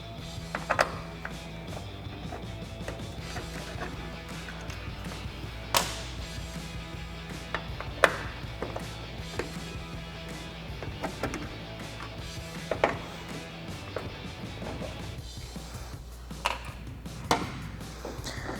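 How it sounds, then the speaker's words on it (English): Tools working the T25 Torx screws and push clip on a 2019-2023 RAM 1500 taillight: scattered close clicks, taps and plastic snaps over a low steady hum, with no talking. "So I've got a T25 Torx driver and a clip remover tool to get these out."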